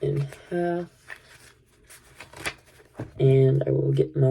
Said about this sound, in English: and then I will cut my deck in half.